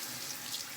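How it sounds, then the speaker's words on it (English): Tap water runs steadily into a sink for a quick rinse after a shave with a Vincent VT-1321 shavette, a close, even hiss with no voices. "Do a fairly quick rinse off here."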